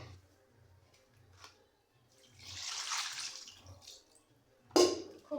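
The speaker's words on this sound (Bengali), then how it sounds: "আরও হালকা কুসুম গরম পানি দিয়ে আমি হাঁসটাকে একটু পরিষ্কার করে নেব" Lukewarm water pours and splashes while a plucked duck is washed, a soft rush of running water with drips and a sharp splash near the end, otherwise quiet.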